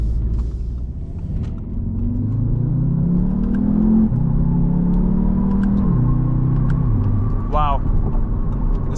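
A 2023 Audi TTS engine drones steadily while driving, its pitch climbing through a long pull and dropping at a shift before rising again, with constant road rumble underneath.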